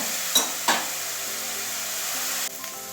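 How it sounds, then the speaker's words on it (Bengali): Food fries in a pan for an egg curry with capsicum and potato, a loud, steady sizzle with two sharp stirring scrapes near the start and a brief drop toward the end. "লাল লাল করে ভেজে নেব"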